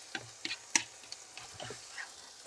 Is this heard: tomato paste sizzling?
yes